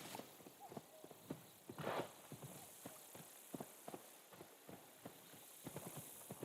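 A horse's hooves clip-clop at a walking pace in Assassin's Creed Shadows, a steady run of crisp, close hoofbeats with one brief louder rustle partway through.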